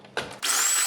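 An electric hand mixer starting up in cake batter with eggs and sour cream, a brief rough whir that jumps to a steady, loud high-pitched motor whine.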